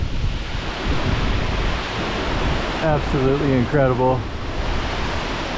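Roaring rush of Yosemite's 1,612-foot single-drop waterfall in peak season, a steady broadband wash of heavy falling water and spray close by, with someone briefly speaking over it partway through.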